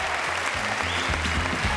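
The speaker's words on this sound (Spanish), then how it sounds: "aplaudimos fuerte con energía." A gala audience at a final claps loudly and energetically in a dense, continuous burst, with music or a low rhythmic tone under the applause.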